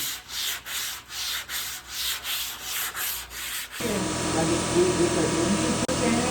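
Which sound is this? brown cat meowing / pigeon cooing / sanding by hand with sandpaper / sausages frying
sanding by hand with sandpaper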